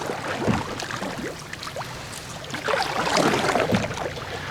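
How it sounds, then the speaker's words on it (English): A keelless canoe is paddled with J strokes against a wind, giving soft repeated dips and swishes of water over a steady, gusty wind hiss with a faint hull slosh. "So I'm doing a J stroke here to keep the canoe straight."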